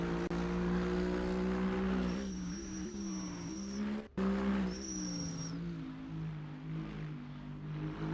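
A GT racing truck in a sim racing game drives around a track, its engine a steady droning tone that shifts pitch through gear changes. It cuts out briefly, then returns with a high whine, and no one speaks.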